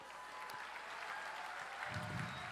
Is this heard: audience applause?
yes